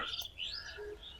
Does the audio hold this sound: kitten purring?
no